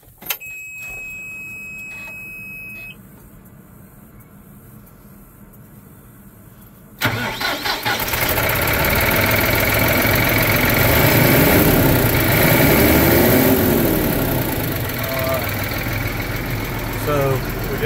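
A Massey Ferguson 4707 tractor engine cranks and catches after several seconds of quiet low rumble, then settles into a loud, steady idle that runs to the end, with a voice briefly heard over it.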